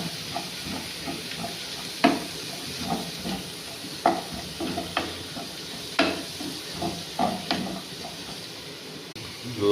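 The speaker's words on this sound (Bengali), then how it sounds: "হালকা হালকা করে ভাজা লাগবে।" Capsicum, onion, ginger and garlic fry in a pan with a steady sizzle. Spatula strikes and scrapes against the metal come in a loose, repeating rhythm over nearly ten seconds.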